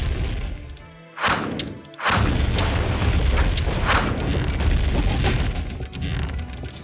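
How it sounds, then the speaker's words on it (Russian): Heavy cannon booms from the strategy game Warcraft II roll out in a dense, rumbling barrage of blasts over a couple of seconds, loud and sustained with no talk. "вот что-то пушечное"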